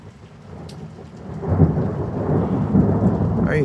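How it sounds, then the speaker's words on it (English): Rain falls steadily during a thunderstorm over Elyria as a deep thunderclap rolls in and rumbles on for several seconds, with no voices. "That was a nice thunderclap."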